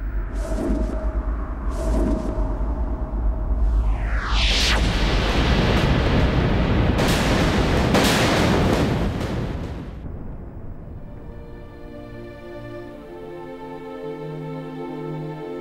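Artillery shell striking a munitions depot inside the Parthenon on the Acropolis, a huge loud blast and rumbling roar that swells, then fades over several seconds into a lingering tonal drone.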